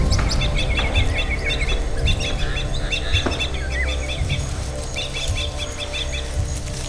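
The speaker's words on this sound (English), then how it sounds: "The crossbill." Crossbills calling in the Bidoup forest canopy, a run of short, high chirps repeated in rapid bursts over a dense, steady bed of forest insects and ambient noise.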